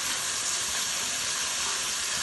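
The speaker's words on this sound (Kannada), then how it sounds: "ಸ್ವಲ್ಪ ಫ್ರೈ ಮಾಡೋಣ." Tomato and ginger garlic paste fry in a pan, a dense, even hiss of sizzling oil holding steady throughout, close and fairly loud, with no voices.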